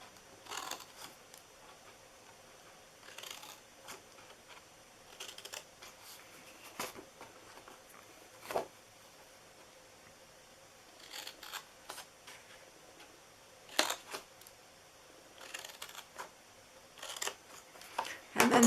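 Scissors snipping the sides of a cardboard Christmas gift box, a series of quiet, crisp cuts in uneven bursts with pauses between, close and alone.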